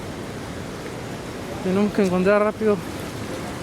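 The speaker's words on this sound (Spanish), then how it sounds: "Nos ha agarrado una lluvia" Heavy rain falls near Machu Picchu, a steady broadband hiss filling the whole stretch, with a person briefly speaking over it midway.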